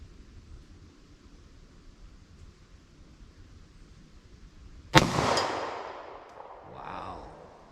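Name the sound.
gunshot, bullet hitting steel plate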